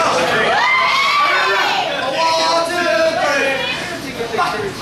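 Lively crowd cheering and shouting for a competitor at a Pacific Beach, San Diego event, with whoops and excited voices rising and falling continuously and close by.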